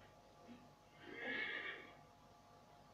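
A horse whinnies once in Assassin's Creed III, a fairly faint, wavering neigh lasting about a second over low background noise.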